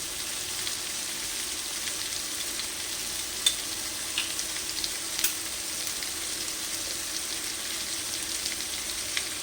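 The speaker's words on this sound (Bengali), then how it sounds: "মশলাটা কষে নিলাম তেল ছেড়ে গেছে এবার আমি চিকেনগুলোকে দিয়ে দিচ্ছি" Chicken pieces fry in spice masala with a continuous, even hiss of sizzling oil, close and moderately loud, with a couple of faint clicks and no speech.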